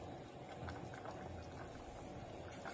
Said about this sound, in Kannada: ಎಲ್ಲ ಹಾಕಿ ಒಂದ್ಸಲ ಕುದಿಸ್ಬಿಟ್ರೆ